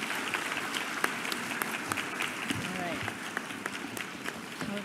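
Applause from a seated audience at an afternoon conference session fills the whole span, an even, moderately distant patter of many hands with a few sharper claps standing out.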